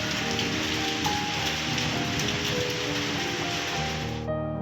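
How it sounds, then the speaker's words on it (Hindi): Rain pours outside a house, a dense close patter of drops on surfaces that runs steadily and then cuts off abruptly at the end. "बारिश हो रही थी जिसकी वजह से ठंडी-ठंडी हवाएँ आ रही थी"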